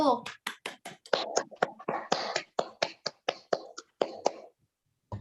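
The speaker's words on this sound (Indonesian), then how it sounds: "Beri tepuk tangan dulu buat kelompok 1." Classroom students clap for a group after its answer, a loose burst of about twenty separate sharp claps at an uneven pace that thins out and stops, close and fairly quiet.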